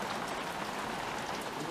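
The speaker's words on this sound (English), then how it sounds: "Just want to show you all we're getting some rain" Steady rain falling on a porch in the desert, a continuous broadband hiss with soft patter that holds at an even level throughout, with no distinct voices.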